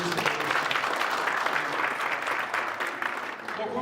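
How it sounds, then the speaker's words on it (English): Audience applause at a student SRC manifesto gathering on the Pretoria campus, a dense, steady wash of many hands clapping close by, sustained throughout with only slight fading near the end. "give yourselves a round of applause"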